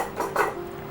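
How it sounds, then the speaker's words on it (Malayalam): A cooking pot set down on a kitchen stove while making Kuttanadan duck roast: a couple of quick metallic clanks of the vessel, close and clear, with no talking. "ഇനി മറ്റൊരു പാത്രം അടുപ്പിലേക്ക് വയ്ക്കാം"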